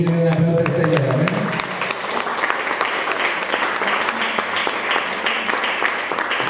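A church congregation claps in praise of the Lord, dense sustained applause filling the space after a short spoken line at the start.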